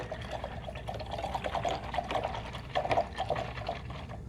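A paintbrush swishes and sloshes in a cup of water during acrylic painting, soft close-up gurgling and dripping for a few seconds.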